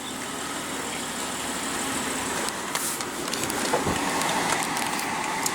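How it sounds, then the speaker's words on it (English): A 2014 BMW X5 3.0 L turbo inline-six engine idles steadily with a low, even rumble and some mechanical hum, close by, with a few faint clicks and knocks on top. "let's go ahead and rev up the X5 and hear how she sounds."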